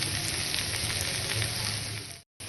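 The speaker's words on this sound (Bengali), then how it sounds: "এটা দেখলেন আপনার আমি কষিয়ে নিচ্ছি এগুলো দিয়ে" Chicken sautéing in a pan with salt, turmeric and chili powder gives a loud, dense, continuous sizzle close up, cutting off abruptly just before the end.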